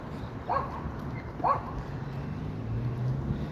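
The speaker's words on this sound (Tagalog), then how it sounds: "Oh, may aso." A dog barks twice, a second apart, at moderate distance over a steady low outdoor rumble on a street in Dubai.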